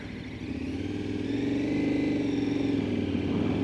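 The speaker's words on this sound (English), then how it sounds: "Engine is very smooth." A KTM 1290 Super Adventure motorcycle engine hums steadily while riding, a smooth mid-pitched drone with a slight rise in pitch, heard up close with no talk.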